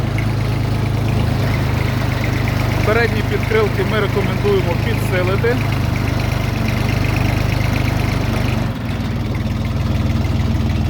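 A cold, unwarmed Jinma 244 tractor's M385 diesel engine idles steadily with a deep, chugging rumble, close and loud, while someone talks over it.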